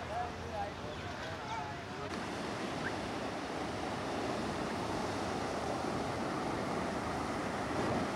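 Steady, broad roar of ocean waves washing onto the beach at Varkala, Kerala, with constant surf wash and some wind noise and no distinct breaks between waves.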